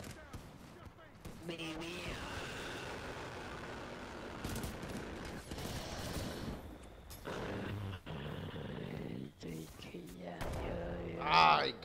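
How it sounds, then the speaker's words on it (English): Shotgun blasts in a Titanfall 2 multiplayer match come as loud, booming bursts mixed with other game effects, while a player talks excitedly over the action. "What kind of person is using a shotgun?"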